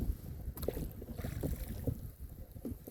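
Wind blows up a canyon on Lake Sonoma, buffeting the microphone with a constant low rumble and gusty roar, mixed with the splash and creak of a rowboat on the water.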